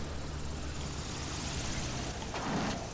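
An airplane comes in to land in GTA Online, its engine a steady broad roar throughout, swelling slightly near the end, with no talking over it.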